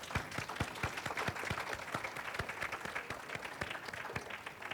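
An audience claps in a steady round of applause, many hands giving dense rapid slaps at moderate distance, sustained evenly for several seconds without voices.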